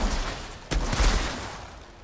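Gunfire in the shooter game Outriders: one sharp shot or short burst cuts through a loud, rumbling game background, with no talk.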